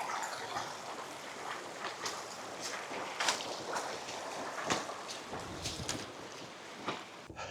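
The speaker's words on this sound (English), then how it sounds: "It's getting very breezy the higher we get." Wind gusts buffet the microphone on a winter mountain hike up Sgurr Eilde Mor, a fairly faint, rushing roar with irregular bursts and thumps, with no voices over it.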